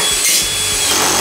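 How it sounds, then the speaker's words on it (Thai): An electric drill drives screws through heavy wall panels for a soundproofed game room, giving a loud, continuous grinding whir with rough scraping texture and no talk. "หลังจากนั้นลูกชายผมก็จัดการยิงสกรูที่เหลือเรียบร้อยครับ"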